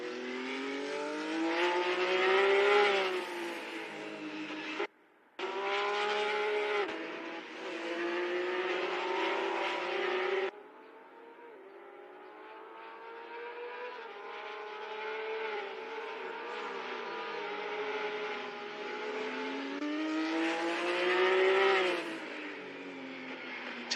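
A Mustang race car in a virtual racing game laps a New Zealand circuit, its engine loud and steady, rising and falling in pitch through gear changes and corners, with one brief dropout.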